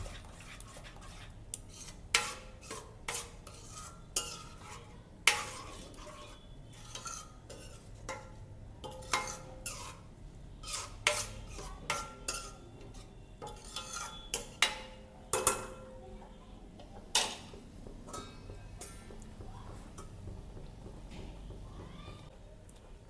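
A spoon scrapes and clinks against a pan while turmeric and red chili powder are stirred into semolina upma, in irregular sharp taps and scrapes close by over a quiet background, with no talk.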